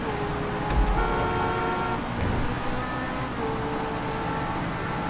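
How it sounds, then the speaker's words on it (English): Car horn honks in GTA 5 during a street race, a short toot rising over steady engine and traffic noise, with another burst a little later. "He's probably wondering why is that jackass honking his horn"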